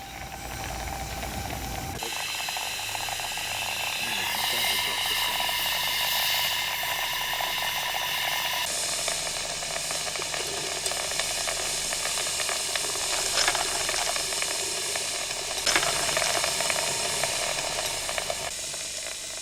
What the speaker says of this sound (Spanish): ya empieza a activarse el propio ventilador de la locomotora